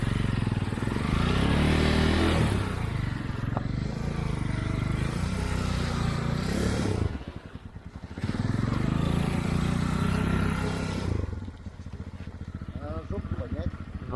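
An all-wheel-drive motorcycle powered by a chainsaw engine runs in snow with a steady, close buzzing drone that briefly drops and picks back up, while people talk over it.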